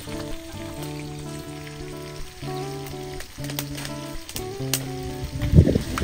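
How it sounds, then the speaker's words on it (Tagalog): Ginamos (fermented fish paste) sizzling and boiling in a pot, a steady crackle over a background of low tonal hum, with a louder clatter near the end. "Ayan na, kumukulo na."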